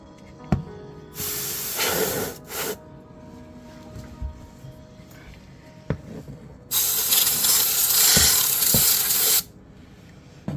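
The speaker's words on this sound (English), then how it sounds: "Now it's sizzling." Bursts of loud hissing sizzle, one short and one longer, separated by quiet stretches with occasional clicks.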